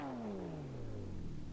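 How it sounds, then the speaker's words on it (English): A single engine note winds down in pitch over a second and a half, the deep revving exhaust of a BMW M4 with an Akrapovic exhaust in a racing video game, fading from a rev. "the BMW M4 modified by Akrapovic with their exhaust system, which makes the car sound very nasty"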